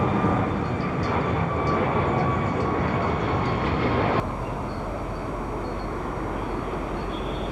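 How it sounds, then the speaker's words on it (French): A C-Series 300 jet airliner with two Pratt & Whitney turbofan engines climbing steeply during a flying display at the 2015 Paris Airshow, a loud continuous broadband engine roar with an abrupt drop in level partway through. "C'était le C-Series 300 et regardez cette pente de montée"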